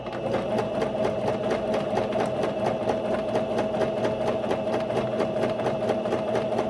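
A sewing machine back stitches ribbon on a homemade tutu skirt, running in a steady fast mechanical whir with a rapid even needle clatter, close and continuous with no talk.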